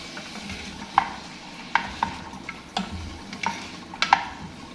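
Chopped pepper and onion frying in a pan for a Swahili biriani sauce, a low steady sizzle broken by sharp clinks and scrapes of stirring at irregular intervals, close by with no talk.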